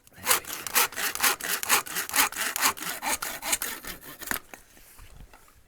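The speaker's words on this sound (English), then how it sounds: "have my hacksaw right now. This is hard work." A hacksaw cuts through a broken paddle in steady back-and-forth strokes, about a dozen loud, rasping passes close up, then the sawing stops.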